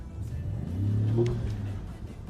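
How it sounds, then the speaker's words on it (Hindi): A 2016 Ford F-150 Platinum pickup with a twin-turbocharged engine revs up in a short, steady swell and then settles back, a low engine rumble fairly close by, with no voices. "इसके टर्बोस की जो साउंड है ये भी आपको मोस्टली गाड़ियों में नहीं मिलती"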